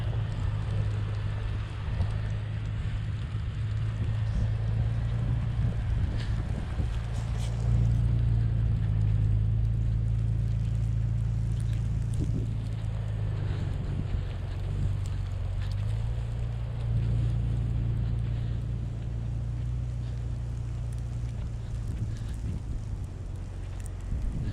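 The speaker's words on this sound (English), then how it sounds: "we're gonna see how it does in two-wheel drive up a little bit of an incline" A stock Jeep Cherokee XJ climbs a snowy incline in two-wheel drive, its engine droning low and steady throughout, with a slight rise and dip in pitch under wind rumble.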